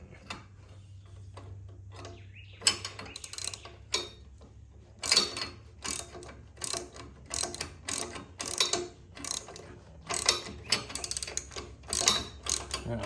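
A ratchet wrench clicks in quick bursts while tightening a bolt on a Baja buggy frame, the close, crisp ratcheting coming in repeated strokes with short pauses between them and no voices.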